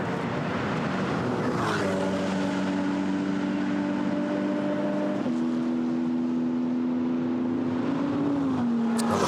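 GT4 race cars at speed at Monza during a race, engines droning from mid-distance with a steady whine that holds, then drops in pitch as they pass, with no talk over it.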